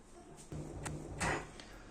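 A kitchen drawer with rails glides open on its runners, giving a soft rolling slide and a light knock near the end, quiet and close in a room.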